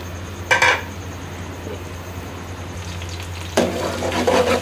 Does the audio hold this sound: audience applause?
no